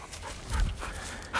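A young puppy pants softly up close, a quick run of faint breathy huffs over about a second and a half, with no talking.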